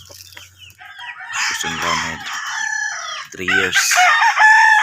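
A three-year-old Boston Roundhead gamefowl rooster crows up close and loud in a backyard, its harsh, drawn-out calls broken into bursts, with a little clucking and a brief bit of talk mixed in.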